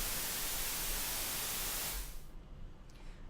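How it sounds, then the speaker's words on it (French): An analog synthesizer's noise generator plays a loud, steady hiss of white noise that cuts off abruptly after about two seconds, leaving a faint low residual noise. "Quand j'appuie sur une touche, ça génère un bruit blanc."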